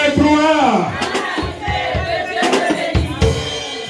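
A church congregation acclaiming the Lord, many voices rising together in loud cheering and ululating shouts, with bursts of clapping.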